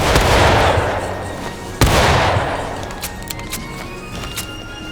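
Massed musket volleys in the War of Rights game, a dense crackling roar of black-powder shots with a sharp louder report near two seconds, then thinning scattered pops and distant cracks.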